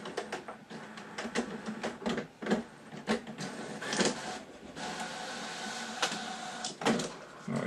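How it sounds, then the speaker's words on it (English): A USB printer runs off a test page with soft mechanical whirring, feeding clicks and intermittent clacks, fairly quiet and steady throughout, with no talking. "You can once again hear the printer running."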